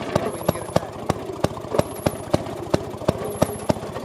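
A Maytag Model 92 gasoline engine runs on a Maytag 90 washing machine, firing in a steady, evenly spaced series of sharp popping exhaust beats over a low mechanical drone, close and fairly loud.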